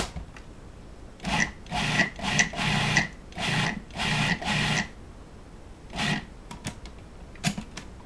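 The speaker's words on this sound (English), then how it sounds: "every so often you can wipe down the sides of the food processor" A food processor chops ingredients into a coarse paste for pasta bolognese in short grinding pulses: a run of quick bursts, a pause, then a few scattered shorter pulses, close and fairly loud.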